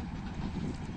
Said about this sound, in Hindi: PH20 के साथ आ रही है रहमान बाबा एक्सप्रेस